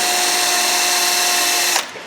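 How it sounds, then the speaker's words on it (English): A power drill whining steadily as it bores a hole in a Subaru 2.5 exhaust, loud and close, then stopping abruptly near the end and spinning down. "we're just going to drill the hole where we can fix it"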